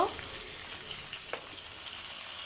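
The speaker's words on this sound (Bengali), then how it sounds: "এটা সুন্দরভাবে নাড়াচাড়া করে মশলাটা কষিয়ে নিব তরকারির সাথে" Ground spice paste fries in hot oil alongside green banana curry seasoned with salt and turmeric, giving a steady, moderately close sizzle with a few brief crackles and no talking.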